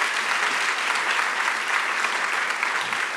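Steady, dense applause from a graduation ceremony audience for Marisol at an educational leadership event, loud and continuous with no voices over it.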